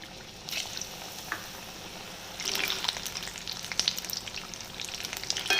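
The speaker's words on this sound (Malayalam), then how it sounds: "ഇങ്ങനെ അങ്ങനെ അടുക്കിയിട്ട് എണ്ണയ്ക്കകത്തേക്ക് ഇട്ട് കൊടുക്കുക." Egg bajji frying in hot oil, a steady close sizzle and crackle that swells louder once the battered pieces go in, with soft stirring clatter and no talk.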